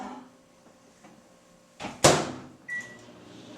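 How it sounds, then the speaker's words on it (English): A microwave oven used to heat water gives off mechanical sounds. A faint hum is followed by a sharp clunk like the door latch, then a short beep. "we decided to choose a microwave and not the stove, so we heat it up for 2 minutes"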